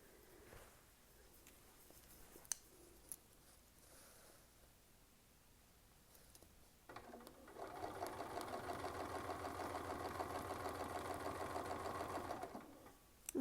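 A sewing machine stitches a quilted feather guided by a Westalee ruler, a steady close whirring run of about five seconds after quiet handling sounds, ending abruptly.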